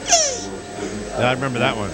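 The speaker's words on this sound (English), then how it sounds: "This is the sound of a baby tortoise humping a shoe." A baby tortoise humping a shoe gives thin, squeaky, high-pitched chirps in a few short bursts, close and fairly faint, with a person's voice speaking briefly among them.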